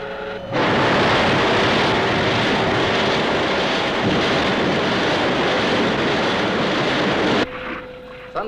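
Thunderbird 4 launches with a sudden loud roaring rush that cuts in within the first second, holds as a dense, powerful wash of noise with a faint tonal whine, and drops off abruptly near the end.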